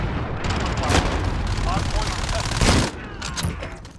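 Sustained automatic gunfire and explosions crackle loudly in the Call of Duty: Modern Warfare Hardpoint multiplayer mode, including P90 bursts, with dense overlapping shots and in-game voice callouts over the battle.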